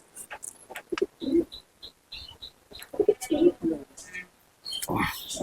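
Pigeons kept by a fancier coo in soft repeated bursts, heard close by among short bird calls and quiet talk from people nearby.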